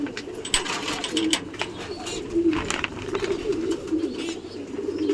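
Domestic pigeons at a loft coo in low, steady murmurs close by, with a few faint bird chirps and light rustling over the continuous cooing.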